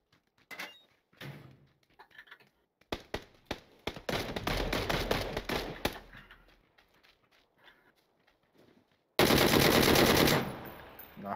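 Automatic gunfire in the video game PUBG, with bursts of rapid shots, then a long sustained volley mid-clip and another loud dense stretch near the end, set against quieter gaps and scattered single reports.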